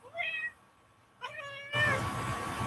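A house cat gives two clear meows, a short one and then a longer rising one after a pause, close and fairly quiet, before a burst of rustling handling noise.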